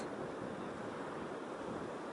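Stormy sea surf rolling in, a steady, loud roar of breaking waves with wind noise across the microphone, continuous and unbroken.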